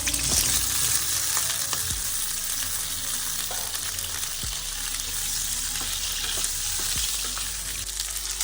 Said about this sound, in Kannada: ಈ ಕಟ್ ಮಾಡ್ಕೊಂಡಿರೋ ಹೀರೆಕಾಯಿನ ಎಣ್ಣೆಲಿ ಹಾಕೊಂಡು ಚೆನ್ನಾಗಿ ಫ್ರೈ ಮಾಡ್ಕೋಬೇಕು ಫಸ್ಟ್